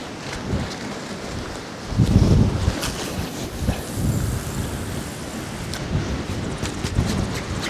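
Strong storm wind at a fishing spot buffets the microphone in heavy rumbling gusts that rise and fall, mixed with rain-like hiss throughout.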